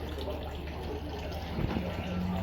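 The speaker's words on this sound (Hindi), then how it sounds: "ये देखिए वेस्ट पानी इधर निकल रहा है।" Waste water runs steadily out of an Aquaguard water purifier, a continuous close rushing and splashing flow that grows slightly louder near the end.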